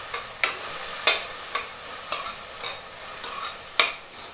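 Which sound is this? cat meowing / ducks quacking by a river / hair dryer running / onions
onions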